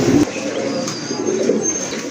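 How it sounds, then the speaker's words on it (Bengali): Large Indian Bombai pigeons coo in a loft, a soft throaty cooing that repeats steadily and close by, with faint background noise. "আরেক জোড়া কবুতর, বোম্বাই কবুতর, হিউজ সাইজের কবুতর, ইন্ডিয়ান বোম্বাই"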